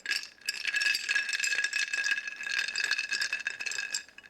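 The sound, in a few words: ice rattling in an iced coffee cup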